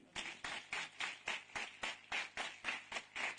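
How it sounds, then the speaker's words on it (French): Worshippers in a church clap in a steady rhythmic beat, about four claps a second, moderately near and fairly quiet, with no cheering voices audible. "Si vous m'entendez, acclamez le Seigneur."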